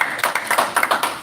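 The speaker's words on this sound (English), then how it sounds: "let's give Validus a big round of applause for that" Audience applause at an investment presentation in Melbourne, a short burst of claps that rises and falls in quick uneven pulses, fairly close and clear with no talk over it.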